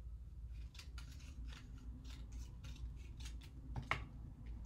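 Scissors snip through cardstock at a craft table in a quick run of faint, crisp cuts, ending in one sharper final snip.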